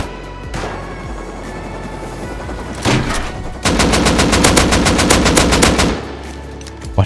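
Gunfire in the video game Rust: a loud, sharp shot, then bursts of rapid automatic fire. One dense volley of evenly spaced shots runs for about two seconds before tailing off, with no talk.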